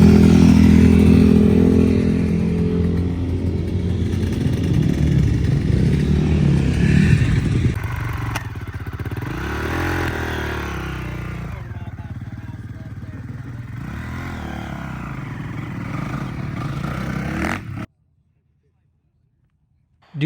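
A 2017 Kawasaki KX 450F dirt bike engine at a Grand River hare scramble, loud and close, revving and shifting pitch with clatter, fading lower before cutting to silence near the end, with speech over it.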